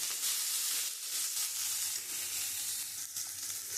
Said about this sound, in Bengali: পেঁয়াজ আর কাঁচা লঙ্কা আমি দিয়ে একটুখানি হালকা করে একটু ভেজে নেব